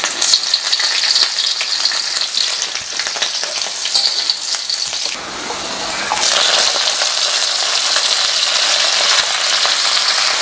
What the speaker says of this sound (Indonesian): Sekarang kita tumis kangkung.